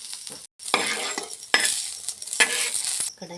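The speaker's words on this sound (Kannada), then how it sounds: "ಚೆನ್ನಾಗಿ ಫ್ರೈ ಆಗಂಗ ಹುರಿಬೇಕು ರೀ ಫ್ರೆಂಡ್ಸ್" Okra frying and being stirred in an oil-filled pan, bright crackling sizzle broken by several scraping stirs and a brief pause, close and moderately loud, no voices.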